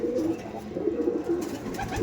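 Madrasi pigeons coo in low, throaty, overlapping bursts close by, a continuous burbling chorus with no talking.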